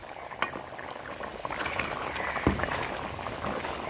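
Mutton curry with potatoes bubbling in a pot, a low steady simmer with scattered pops and occasional clinks and scrapes, fairly quiet and close.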